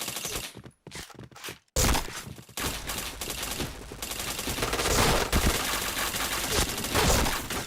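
Rapid bursts of gunfire from a multiplayer shooter game, loud and close, starting after a few choppy clicks and scrapes and then running as dense overlapping volleys and fusillades through the rest.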